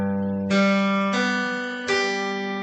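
Guitar notes fingerpicked across the strings of a chord, three distinct plucked attacks a little over half a second apart ringing together and sustaining clearly and close, with no talk.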